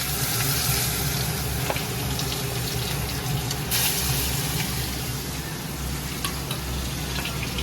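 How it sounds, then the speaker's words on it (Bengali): Small shrimp frying in oil in a pan, giving a steady, dense sizzle that holds evenly throughout with no talking. "এদিকে ইঁচু মাছগুলো ভেজে নিচ্ছি"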